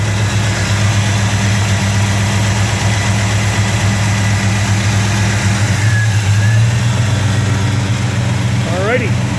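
1967 Pontiac GTO hardtop with a four-speed, its engine idling close by in a steady, even rumble through the whole stretch, with a brief squeak of tool contact near the end.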